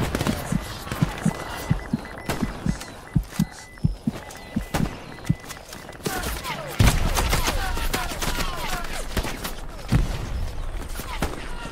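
Gunfire from a shooter video game: a steady run of sharp single shots at even intervals, then denser bursts of crackling fire mixed with footsteps and general battle noise, with no talking.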